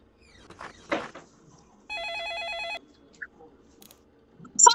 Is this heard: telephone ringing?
yes